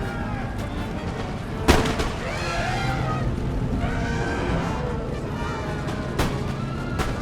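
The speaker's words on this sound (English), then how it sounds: "Cannon, can you fire into that mass?" Cannon fire from Empire: Total War, with a sharp boom near the two-second mark and another softer one near the end, set in a dense battle din of shouting, musket crackle and distant rumbling.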